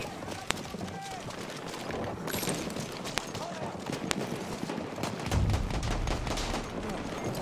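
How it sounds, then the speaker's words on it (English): Sharp gunshots crack out at scattered intervals over a busy, noisy background in an online video game featuring the Ilya Muromets bomber, with occasional louder bursts and a low thump near the end. "I hear gunshots."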